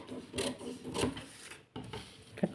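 Scissors cut through a paper blouse pattern for a sleeve shape, making soft repeated crisp snips and rustles at close range, with a short pause partway through.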